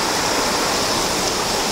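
A stream swollen by three days of steady rain rushes past in a village garden, a dense, even wash of flowing water that stays close and constant with no other sounds.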